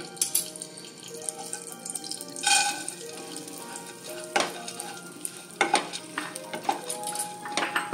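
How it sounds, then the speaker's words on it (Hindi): Mixed nuts roasting in a little ghee for Goan fresh coconut neureos, a soft sizzle with repeated scraping and stirring clatters spread through the stretch. "इल्लीशी घी घालून सगळे नट्स आहाय ते मातशें रोस्ट करपाचे"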